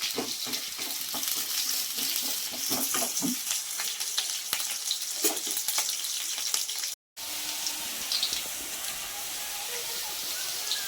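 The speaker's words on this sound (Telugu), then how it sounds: "ఆనియన్ కొంచెం బాగా బ్రౌన్ కలర్ వచ్చేంత వరకు ఫ్రై చేద్దామండి" Onions frying in oil for Andhra-style mutton pulusu give a dense, continuous sizzle with crackles and pops, briefly cut off midway before the same steady frying resumes, close and fairly loud.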